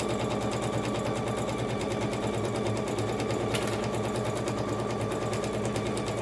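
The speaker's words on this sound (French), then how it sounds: "Et maintenant, on coud marche arrière et marche avant" A sewing machine runs a straight 1 cm seam back and forth on a fabric cover for a Cricut Maker, giving a steady, close, continuous mechanical whir and rapid needle chatter with no talking.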